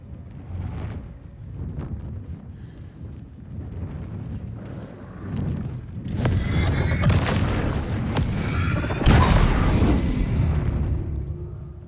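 Shotgun blasts in Alan Wake 2: after quieter thuds and footsteps, loud booming shots hit near the middle and later, each with a heavy burst and a ringing tail.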